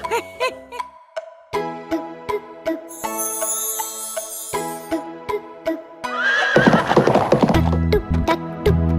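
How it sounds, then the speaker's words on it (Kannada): A horse whinnies loudly over steady clip-clop hooves, with rhythmic jingling and a burst of harsher noise near the end. "ಓಡುವ ಕುದುರೆ, ಟಕ್ ಟುಕ್ ಟಕ್ ಟುಕ್ ಓಡುವ ಕುದುರೆ, ಗೊರಸನ್ನು ನೆಲಕ್ಕೆ ತಟ್ಟುತ್ತ"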